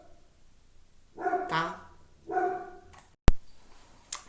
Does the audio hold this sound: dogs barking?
yes